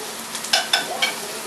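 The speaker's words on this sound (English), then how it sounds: "My onions are still cooking." Onions and jalapeño frying in a pan, a steady soft sizzle with a few brief crackles and stirring scrapes, close by with no talk.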